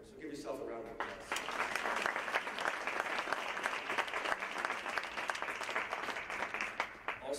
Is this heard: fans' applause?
yes